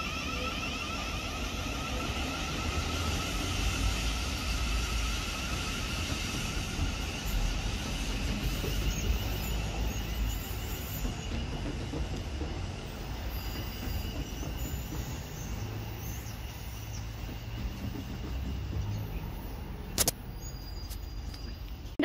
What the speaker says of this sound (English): 7:07 is now leaving to London Waterloo via Kingston